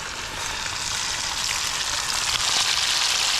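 Fish marinated with ginger, salt and turmeric frying in hot oil, a steady loud hissing sizzle that holds without pause, close and alone with no talk.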